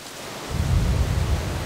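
Steady rain hisses throughout in the Amazon basin, with a deep rumble of thunder swelling in after a moment and rolling on low beneath the downpour.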